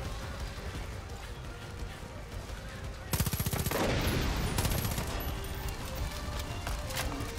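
Enemy gunfire in the video game Far Cry 5, rapid automatic bursts that break in loudly partway through and keep cracking in a dense, continuous fusillade over a busy game background.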